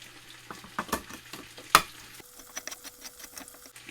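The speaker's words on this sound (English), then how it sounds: "let me open these cans and put them in the pot" A brand-new KitchenAid can opener cuts open cans for homemade vegetable soup, giving irregular close clicks and grinding scrapes, with a faint steady hum underneath that gives way to a thin whine midway.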